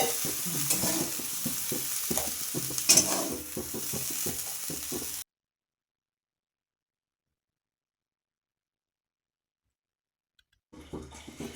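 Fresh prawns sizzling and frying in oil in a pan while being stirred, a busy crackling hiss with scraping turns for several seconds, then sudden silence before frying faintly resumes.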